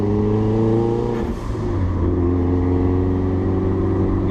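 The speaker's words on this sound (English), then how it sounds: "Got the windows down, let you do hear the blow-off valve" A 441-horsepower Mitsubishi Evo 9 turbo engine drones steadily while driving with the windows down, a brief whooshing blow-off valve release cutting in once before the engine note resumes.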